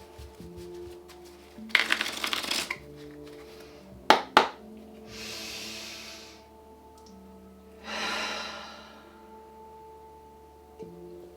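Tarot cards are shuffled in a few brisk riffling bursts with sharp snaps between them, over soft sustained background music.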